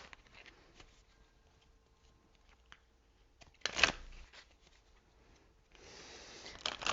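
Oracle cards from an energy deck are shuffled close up in a quiet room: faint handling and rustles, a sharp riffle burst midway, then a steady papery shuffle toward the end, with no voices.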